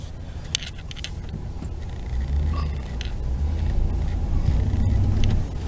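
A four-wheel drive vehicle drives through deep blizzard snow, a low continuous engine rumble that builds and holds, with crunching and scraping snow and a few sharp clicks on top, heard from inside.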